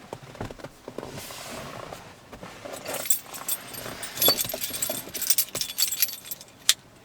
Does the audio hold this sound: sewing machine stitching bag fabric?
no